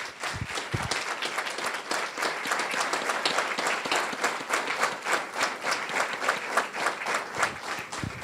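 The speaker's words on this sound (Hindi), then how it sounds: "जोरदार तालियां हम खुदा के पाक रूह के लिए बजाएंगे." A church congregation gives loud applause during a Christian service: sustained, dense clapping from many hands, holding at an even, energetic level for about eight seconds.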